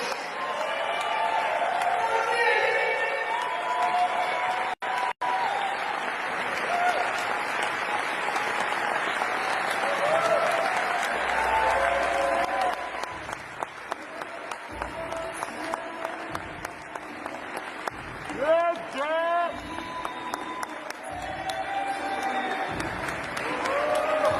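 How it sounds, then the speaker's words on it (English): A live broadcast audience applauds a guest with sustained, dense clapping and some cheering for about thirteen seconds, then fading into scattered claps while someone talks over the tail end. "Please give him the biggest round of applause you can muster"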